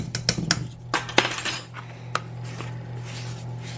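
A metal spoon clinks against a glass jar while cinnamon is measured for a strawberry cheesecake, a quick flurry of bright taps followed by a few sparser clinks over a steady low hum.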